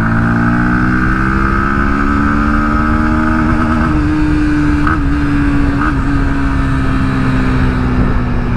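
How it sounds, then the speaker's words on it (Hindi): A 2024 Bajaj Pulsar NS 160 motorcycle's stock exhaust roars loudly up close, its engine note holding a steady drone before rising in pitch as it revs, with brief blips partway through. "जो साउंड है ना एग्जॉस्ट का, वाह बहुत अच्छा है।"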